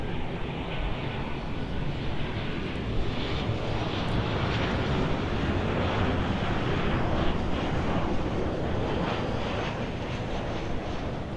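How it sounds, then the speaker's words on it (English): A Delta Connection CRJ 700 regional jet arriving at Los Angeles airport on runway 24 right, a loud sustained roar of jet engines with wind buffeting the microphone, holding steady throughout with no talk. "It's going to be Delta Connection Flight 3727 from Tucson. It is the CRJ 700 once again."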